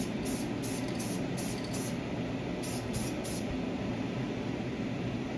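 Spray paint hissing from an aerosol can onto a primered model roof, a steady close rush of spray running throughout without pause or talk.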